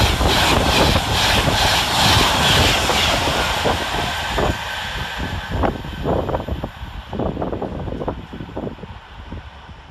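A Class 390 passenger train, unit 390126 bound from Glasgow Central to London Euston, runs through Nuneaton station: a loud, steady rumble and roar of wheels on rail, with rhythmic clacks over joints as it passes close by and gradually eases.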